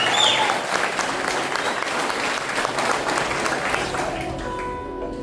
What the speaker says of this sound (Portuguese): Quem pode aplaudir ao Espírito Santo?